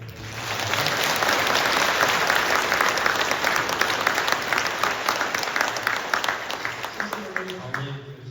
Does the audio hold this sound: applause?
yes